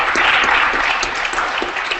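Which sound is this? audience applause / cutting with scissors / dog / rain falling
audience applause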